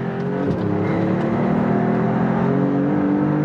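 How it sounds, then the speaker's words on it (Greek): Alfa Romeo 33 Stradale exhaust on a downshift, a loud, close, continuous engine note with rising and falling harmonic tones as revs change. "Ακούστε το κατέβασμα, την εξάτμιση."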